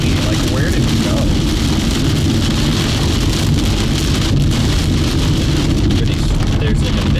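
Hail and heavy rain from a supercell storm pounding a storm-chasing car, a dense, loud, unbroken drumming and hiss on the roof and windows from start to finish.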